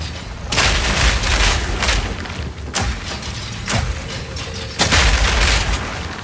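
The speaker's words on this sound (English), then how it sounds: "I've more or less taken to just dropping explosive grenades on everything" Explosive grenades go off in Path of Exile 2, a series of loud booming blasts at irregular intervals, each with a sharp onset and a rumbling tail that overlaps the next.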